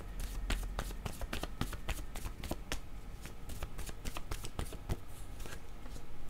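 Oracle cards are riffled and shuffled in a rapid run of crisp snapping flicks, close and fairly quiet, with no talk over them.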